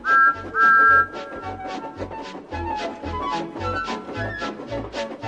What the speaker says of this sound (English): It's nice of them to wave, and he whistled. Peep, peep, thank you.